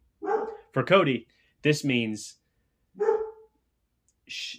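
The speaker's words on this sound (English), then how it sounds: "Excuse the dog barking." A dog barks in short bursts in the background while a person speaks clearly in the foreground, the barks coming a few times in between the spoken phrases.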